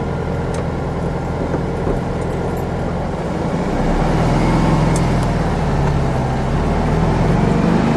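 A 1965 Volkswagen Beetle engine drones steadily while being driven through the gears. The rumble is continuous and close, swelling louder partway through as the car pulls on, with no talking.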